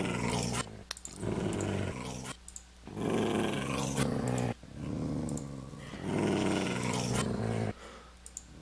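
Several dogs in the video game Minecraft growl in loud, rumbling bursts of about a second or two each, separated by short gaps, close and alone with no talking.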